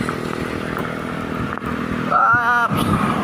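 A motorcycle engine drones past over a constant wash of rain, with a rising engine whine toward the end.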